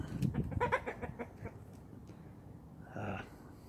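Chickens clucking and squawking in a short flurry near the start, then quieter farmyard noise with another brief rooster call toward the end.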